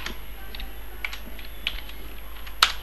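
Someone types code on a computer keyboard in quick, close, steady keystrokes with one sharper, louder clack near the end, alone and with no talking.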